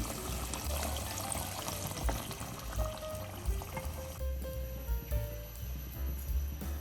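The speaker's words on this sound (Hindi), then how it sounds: "अब हम ऐड करेंगे पानी।" Water pouring steadily into a cooking pot of browned mutton for potato and meat curry, with a splashing, gurgling rush, continuous and fairly close, with some clatter underneath.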